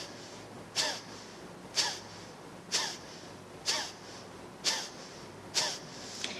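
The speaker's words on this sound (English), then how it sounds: "this is a series of short, sharp inhalations and exhalations through the nostrils" Kapalbhati breathing: six short, sharp nasal exhalations through the nostrils, evenly spaced about once a second, close and clear against a quiet room hiss.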